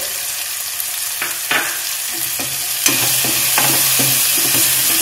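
Turmeric, tomato, coriander and ginger-garlic paste fry in hot oil, a loud, dense sizzle that swells toward the end, broken by several sharp spoon strokes against the pan; no one talks.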